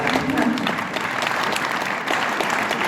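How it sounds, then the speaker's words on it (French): A crowd at a political meeting in Lannion, France, claps continuously, a full round of applause at a steady level, with a faint voice briefly audible early on. "Oui, on peut applaudir ça."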